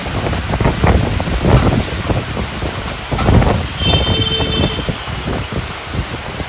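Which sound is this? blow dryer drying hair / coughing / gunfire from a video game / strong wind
strong wind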